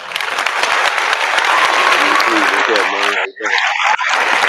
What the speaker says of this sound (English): let's give Mosquito Spray, aka Eddie Atlas, a big old round of applause